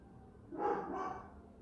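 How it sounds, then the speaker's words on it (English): A single short dog bark from downstairs, muffled and somewhat distant, rising briefly over a quiet indoor background hum. "You can hear my dog Rocky barking at them downstairs"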